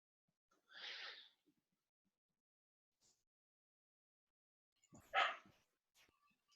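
A couple of short dog barks inside a room, one around the first second and a louder one near the fifth, separated by quiet with a faint sound between.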